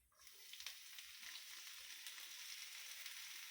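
Cabbage hits hot oil in a frying pan for a fried-pirozhki filling, setting off a close, steady sizzle that swells quickly after a brief quiet start and holds evenly to the end.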